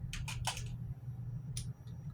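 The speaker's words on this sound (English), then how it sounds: "Now I'm going to set my face with this setting spray" Three quick hissing spritzes from a spray bottle in close succession, then a pause and one more spritz, over a faint low hum.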